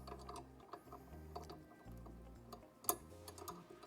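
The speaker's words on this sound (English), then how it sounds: "kind of loosen this bolt up a little bit" A ratchet loosening a bolt on the mounting arm of an Ecotech Marine XR15 LED aquarium light on a Platinum Reef 100.3 tank, giving faint, rapid, repeated clicking strokes close by with one sharper tick partway through.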